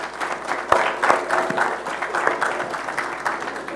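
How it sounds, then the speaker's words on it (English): Steady applause from an audience, a dense patter of many hands clapping at moderate loudness with a few sharper claps standing out. "Go ahead and give them a round of applause, please"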